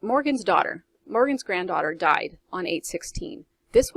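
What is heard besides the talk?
No distinct noise like a dog, phone or traffic.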